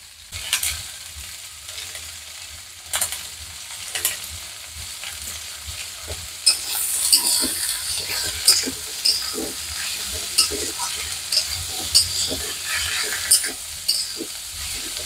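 Onions frying with a little salt in a pan, sizzling steadily while being stirred, with scraping clatters of the spoon growing busier halfway through.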